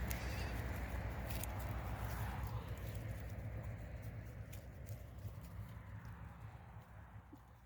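Aleppo goats bleating in a flock outdoors, several overlapping calls over a steady low rumble and scattered rustling.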